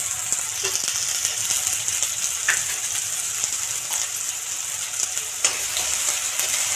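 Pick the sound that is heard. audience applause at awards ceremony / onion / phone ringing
onion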